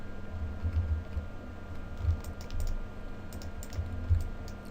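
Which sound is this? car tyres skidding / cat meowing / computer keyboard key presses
computer keyboard key presses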